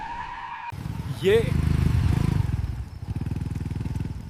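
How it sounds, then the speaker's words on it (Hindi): Animated motorcycle skids to a halt after its tires burst, a sharp rising squeal followed by a rough, rattling engine and tire scrape that fades into a steady chugging, with a brief spoken word at the start. "बाइक के टायर फट गए और वो रुक गई।"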